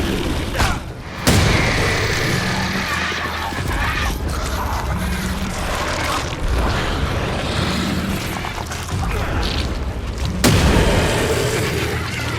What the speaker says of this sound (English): Let's try throwing a bomb down there.